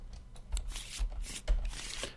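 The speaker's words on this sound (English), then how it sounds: "let's shuffle these first actually" A deck of cards for the board game Leaving Earth being shuffled up close, with repeated papery riffles and soft thumps arriving roughly every half second.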